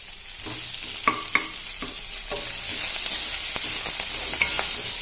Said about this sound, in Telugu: కొంచెం అల్లం వేసి కలుపుకోవాలి.